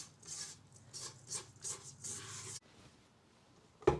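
Muffin batter with brown sugar being mixed and scraped down in a bowl: close rasping, rubbing strokes in quick bursts for a few seconds, then near quiet and a single sharp knock.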